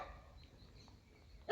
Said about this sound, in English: the background noise, the dogs barking and whatnot